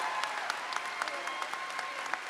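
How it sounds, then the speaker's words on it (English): Steady audience applause fills a large hall at a high school commencement ceremony, even and sustained clapping with scattered louder claps, heard from a distance. "Let us give a round of applause to these individuals for their admirable decision to serve."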